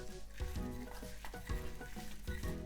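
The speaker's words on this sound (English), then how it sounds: "Then we're gonna mix these up." Pork bun filling with black pepper, oyster sauce and sugar is mixed up close, giving rhythmic wet squelching strokes roughly every half second with no talking.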